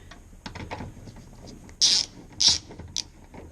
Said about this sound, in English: undo that little 8mm bolt